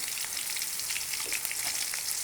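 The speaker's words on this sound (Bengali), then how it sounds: "দিয়ে দিলাম সামান্য একটু আদা রসুন বাটা, ওটা রসুন দিলাম, জিরা বাটা" Ginger, garlic and cumin paste sizzles and fries steadily in hot oil for mutton haleem, a continuous close crackle with no voices.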